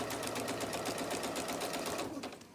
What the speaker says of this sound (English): I'm going to stitch those two together.